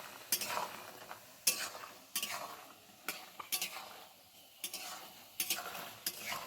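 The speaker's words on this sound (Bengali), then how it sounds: "কটকটিগুলো কিন্তু প্রায় ভাজা হয়ে এসছে, আর একটু হবে, আর 1 মিনিট মতো হবে, তারপরে নামিয়ে নেব।" Katkoti sweets deep-fry in oil with a soft background sizzle, broken by regular, fairly quiet scrapes and clinks of a utensil stirring them in the pan every second or so.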